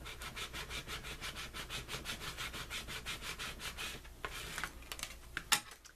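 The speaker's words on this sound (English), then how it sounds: "I'm going to use my bone folder. I will also use my scraper." Bone folder and scraper rubbed over transfer paper laid on adhesive vinyl, giving a fast, even back-and-forth scraping rhythm, close and fairly quiet, then a few sharper scuffs near the end.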